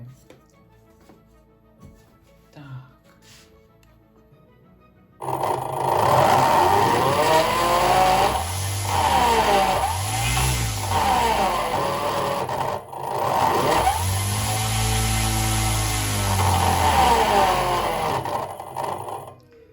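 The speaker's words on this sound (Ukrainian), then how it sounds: "на фінал закріпив вже 15-дюймовий пропелер" A MiToot FlyCat 5010 360kv brushless drone motor fitted with a 15-inch propeller spins up abruptly after a quiet start, whining loudly with pitch sweeping up and down as throttle changes, then cuts off near the end.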